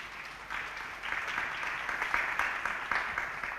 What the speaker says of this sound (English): A round of applause, please, for the speakers